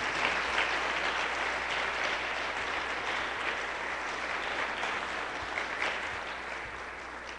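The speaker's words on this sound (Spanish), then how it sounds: "Démosle un aplauso al Señor y ya." Sustained applause from a church congregation fills the room, a dense steady wash of many hands clapping together with no talk over it.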